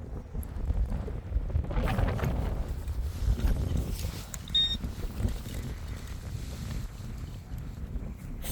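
Wind buffets the microphone in low, rumbling gusts, strongest early on, with a faint brief beep from a metal detector partway through, outdoors in the Lake District.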